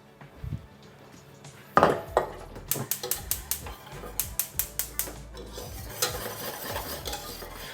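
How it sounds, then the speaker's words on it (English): A whisk scrapes rapidly around a pan of egg and cream custard over low heat, with quick, evenly spaced metallic strokes that grow steady and close after a soft start. "Over a nice low heat again, we continue whisking"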